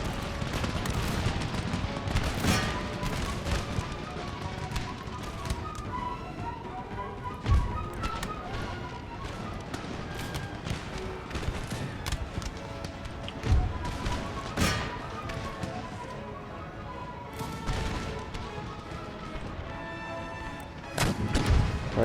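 Artillery fires across a battlefield in the strategy game Empire: Total War, repeated booming cannon shots and musket crackle at irregular intervals over a continuous battle din.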